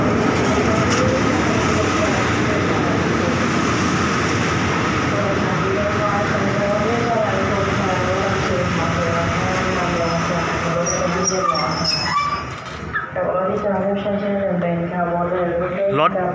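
A rapid train, number 109, rumbles through Chum Saeng railway station in Thailand in a loud, continuous close roar that lasts about twelve seconds and then eases, with a voice talking over it.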